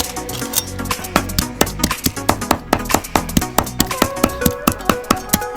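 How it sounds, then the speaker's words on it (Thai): A knife chops raw fish finely on a board for Lao-style fish larb, the bones minced along with the flesh. The sharp, steady strikes come close up at about four per second, loud and unbroken. "สับไปเรื่อยๆนะครับวันนี้"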